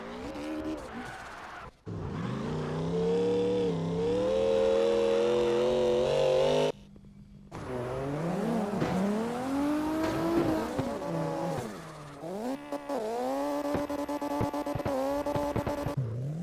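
Revving drift car engine in CarX Drift Racing Online, rising and falling through gear changes with tire squeals, a brief gap of silence, then more throttle bursts.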